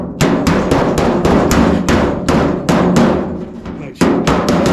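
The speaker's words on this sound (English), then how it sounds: "So we're going to use the hammer as the dolly." A hammer bumps out a dent in a car body panel, with a flat hammer used as a dolly, giving about a dozen loud, sharp metallic strikes in a fast, fairly even rhythm with one brief pause near the end.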